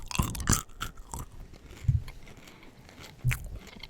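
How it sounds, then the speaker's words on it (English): Close-up chewing of food that starts crunchy and turns chewy, with sharp crunching bites at first and then softer, wetter mastication sounds, heard alone with no talking. "First crunchy, then chewy."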